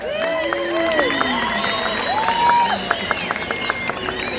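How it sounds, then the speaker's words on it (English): A crowd of street marchers cheers and applauds, with wavering whistles and shouts layered over continuous clapping and loud crowd roar throughout. "I want you guys to give yourselves a huge round of applause"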